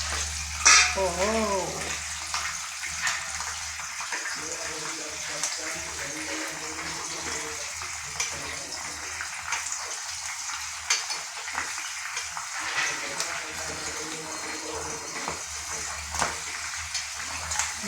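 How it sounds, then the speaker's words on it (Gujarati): Green chillies frying in a pan in a home kitchen, with a steady close sizzle and occasional stirring clatter, while a voice exclaims briefly near the start and other voices murmur in the background. "જો ગાઈઝ મરચાં નાખી દીધા સરોજે."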